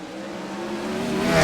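Sprint cars on a dirt oval drag race down the straightaway at Huset's, a steady loud engine roar rising in pitch and volume as they approach close by.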